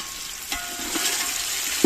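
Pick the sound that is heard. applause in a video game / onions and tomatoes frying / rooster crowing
onions and tomatoes frying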